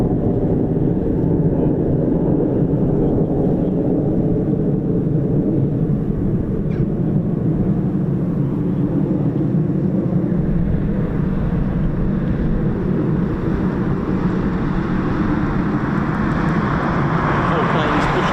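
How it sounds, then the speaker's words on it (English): Eurofighter Typhoon FGR4 jets landing at an RAF station with airbrakes deployed, a loud continuous roar of jet engines that slowly shifts in tone over the whole stretch. "Four planes pushed down position to again assist with drag and just slowing down the Typhoon."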